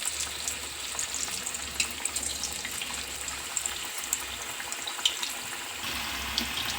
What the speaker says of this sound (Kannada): ಈಗ ಎಣ್ಣೆ ಕಾದಿದೆ ನೋಡಿ,